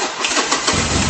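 A Harley-Davidson Nightster motorcycle engine cranks and catches, a short burst of stuttering starter churn giving way to a loud, close, rumbling idle.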